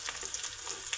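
Onion paste and ginger paste hit hot oil in a pan for beef bhuna, giving a steady bright sizzle with small crackles throughout, close and fairly loud, with no voices.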